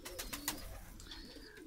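Stavropol high-flying pigeons coo softly at close range, a few low throaty calls with brief bird sounds mixed in, no talking.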